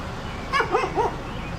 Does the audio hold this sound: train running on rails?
no